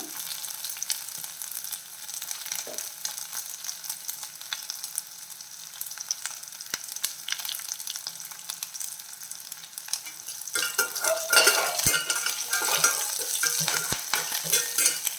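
Curry leaves and two chillies frying in a pan on low flame, a steady close sizzle with occasional stirring scrapes, swelling into louder crackling spatter toward the end.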